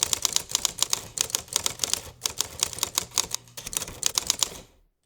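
Rapid typewriter key strikes clatter in uneven bursts with short pauses, crisp and close, ending with a quiet tail, no voices.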